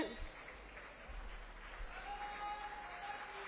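A crowd at a BJP election rally in Versova applauds to welcome Gujarat Chief Minister Bhupendrabhai Patel, a faint, distant wash of steady clapping mixed with crowd noise and some voices.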